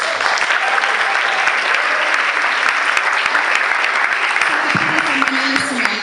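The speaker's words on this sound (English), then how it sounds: "So let's give them a round of applause" A crowd applauds continuously and loudly at a community arts gathering, a thick even wash of clapping from start to finish, with a faint voice surfacing briefly near the end.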